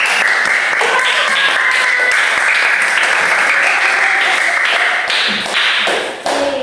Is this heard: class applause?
yes